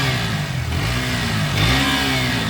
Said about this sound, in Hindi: अब मैं आपको KTM का साउंड सुना देता हूँ।